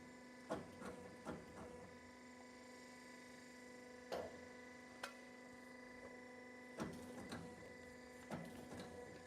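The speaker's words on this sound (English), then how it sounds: "motor stator cutting and recycling machine. Okay, let's show this machine, how the machine working." A 3-in-1 electric motor stator cutting and recycling machine runs with a steady mechanical hum, punctuated by irregular sharp clunks and knocks at moderate distance.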